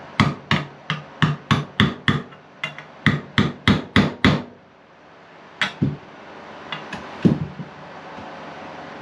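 A part is driven into a Kawasaki KX85 dirt bike with a hammer: a loud, close run of about fourteen sharp metallic blows in a quick steady rhythm, then a pause and a few scattered lighter taps.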